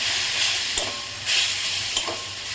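Spice paste of chili powder and ginger paste with a splash of water, frying and sizzling in a pan, with a steady hiss broken by a few stirring scrapes and bursts of louder spitting.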